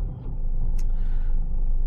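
A car rumbles at low speed while parking close by, a steady engine drone with a brief hiss partway through.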